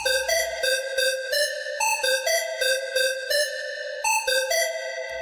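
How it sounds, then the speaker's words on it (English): A bright synthesized pluck plays a repeating melodic pattern of short notes, with a shimmering, slightly wavering tone. "And you can really hear the chorus effect."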